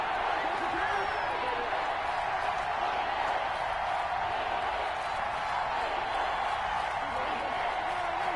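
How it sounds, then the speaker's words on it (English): Football stadium crowd roaring in a steady, dense wash of cheering, continuous and fairly loud throughout, with a broadcast commentator's voice faintly over it. "That just means this crowd's going to get even louder"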